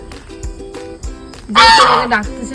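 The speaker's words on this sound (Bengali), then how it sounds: "এই দেখে নিন এটা একটা রাজহাঁস কতটা বড়" A large domestic goose beside a village road near a tea garden honks loudly in a burst of harsh calls, heard close, with quieter background sounds before it.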